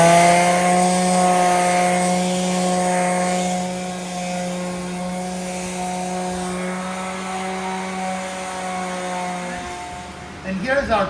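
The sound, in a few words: final sanding of wooden butcher block top with 120 grit sandpaper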